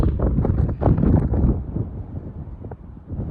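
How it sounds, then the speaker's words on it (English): Winter wind blowing outdoors on a horse farm, heard as loud, rumbling gusts buffeting the microphone, steady and close with no talking. "I'm gonna get out of the wind"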